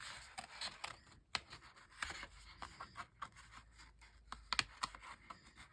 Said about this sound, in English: These scissors seem to cut through just about anything.